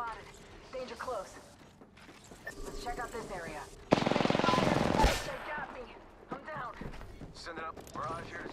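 A quick rapid burst of gunfire lasting about a second rings out in the Apex Legends video game, set amid game voice lines and a person talking.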